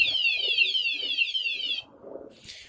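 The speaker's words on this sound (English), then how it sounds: "the alarm will keep going off." A wireless anti-theft motorcycle security alarm blares a loud, rapidly warbling electronic siren in repeated sweeps, cuts off, then chirps again briefly, heard up close outdoors.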